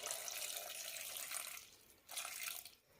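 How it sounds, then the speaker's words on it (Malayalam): Water pours from a tap onto cut yam pieces in a cooking pot. The soft, steady splashing pauses briefly, then resumes before tapering off. "കഷ്ണം വേവാനുള്ള വെള്ളം കൂടി ഒഴിക്കാം."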